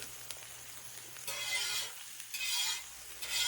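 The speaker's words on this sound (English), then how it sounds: "Now I'm cooking that alligator very slow." Alligator meat cooks slowly on a six- or seven-year-old Blackstone griddle, giving a soft steady sizzle with faint scraping and stirring swells and a low hum underneath.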